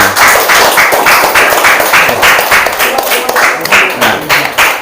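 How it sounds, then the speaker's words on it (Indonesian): A classroom of students claps loudly and steadily for group 5, with dense, rhythmic bursts of hand claps filling the whole stretch close by. "Tepuk tangan untuk kelompok 5."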